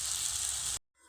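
A sago and sugar mixture hisses and sizzles steadily in a pan over low heat as it is stirred, a continuous bright hiss that cuts off abruptly, leaving only a faint trailing noise.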